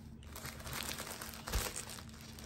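Tissue paper wrapping crinkles and rustles close up, quiet and brief, with a slightly sharper crunch midway.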